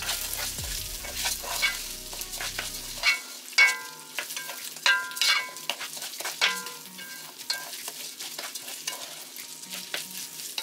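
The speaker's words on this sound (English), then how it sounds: "leave it to fry just a little" Food frying in hot oil in a pot for a Jamaican-style curry, a steady faint sizzle with repeated clinks and scrapes of stirring, no talking.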